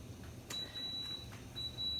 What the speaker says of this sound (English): there goes my rice cooker. Did you hear it beeping?